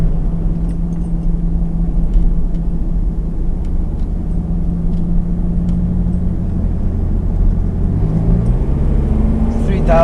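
A Mitsubishi 3000GT engine drones steadily with a loud, close, low rumble, then climbs in pitch toward the end as it is revved up to around 4,000 RPM.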